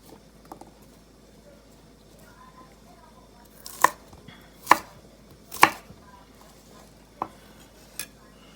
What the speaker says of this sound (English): The asparagus we're going to take and cut on a diagonal and leave kind of big pieces like that